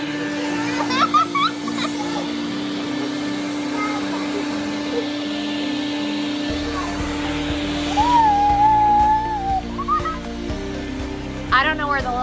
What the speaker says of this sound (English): We have a little guy who wants to help vacuum, so we're gonna show you how easy it is.